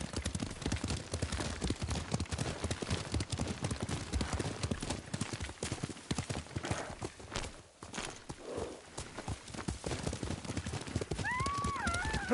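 A horse gallops along a road in the Ghost of Tsushima video game, its hooves pounding in a steady, close clip-clop rhythm that runs nearly the whole time, with a brief pause and a faint neigh.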